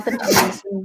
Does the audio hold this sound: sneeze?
yes